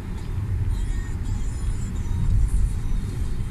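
A car driving through city streets during a German driving test gives a steady, close engine and road rumble with no breaks.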